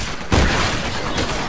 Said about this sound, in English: let's test the anti-materiel rifle on a bloodshot